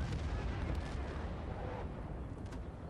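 Gunfire and explosions from the video game Battlefield: Bad Company 2 form a dense, continuous rumbling barrage with no clear separate shots, heard steadily throughout.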